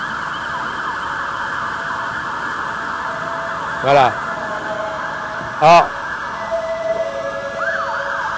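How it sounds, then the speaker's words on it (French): Fire engine sirens on a city street, several trucks and a ladder truck passing, a loud continuous wailing siren running throughout with a few brief horn blasts, while someone speaks briefly over it. "les fameuses ambulances avec le bruit stressant. Ah, c'est les pompiers."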